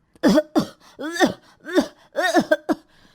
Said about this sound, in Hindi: इस वजह से खांसी आ गई